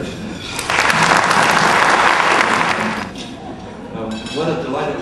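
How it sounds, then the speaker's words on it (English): A room of attendees at a 2009 ethics award event breaks into warm applause that swells, holds for a couple of seconds, then fades as a voice begins speaking, with faint clinks of dishes and cutlery underneath. "please join me in giving a warm applause and welcome to Larry"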